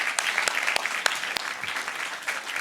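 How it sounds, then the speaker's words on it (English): Applause from a forum audience at a kitchen-stage event as a panel leaves the stage, a steady wash of many hands with a few sharp individual claps standing out, moderately close and sustained throughout. "one more round of applause as they walk off"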